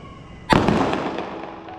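During a family Karwa Chauth evening at home, a firecracker goes off with a single sharp, loud bang, its crackling boom decaying over the following second and a half.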